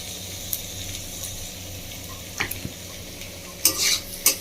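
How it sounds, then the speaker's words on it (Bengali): Potatoes frying in a pan while cooking a Bengali fish jhal, giving a steady, soft sizzle with a few sharp clinks and scrapes from stirring; nobody talks. "আমার আলুটা খুব ভালো করে ভাজা হয়ে গেছে"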